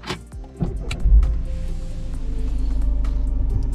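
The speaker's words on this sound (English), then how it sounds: "we'll again start the car from here" A Citroen C5 Aircross diesel SUV engine cranks with a short starter whir, catches and settles into a steady low idle rumble with a pulsing rhythm, heard from inside the cabin.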